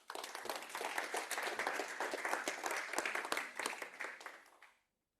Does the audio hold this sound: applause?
yes